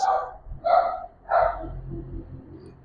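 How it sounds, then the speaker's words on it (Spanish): Dogs bark during a church congregation meeting: three loud, close barks evenly spaced about half a second apart, followed by softer low yips and breathing, with no talking. "que los perros callen en la congregación, porque nos interrumpen"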